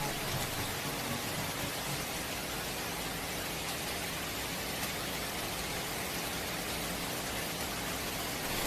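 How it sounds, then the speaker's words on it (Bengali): Steady rain falling at night, a dense, even hiss that stays constant and fairly quiet from start to finish with no voices. "সেই রাতে আবার বৃষ্টি এলো"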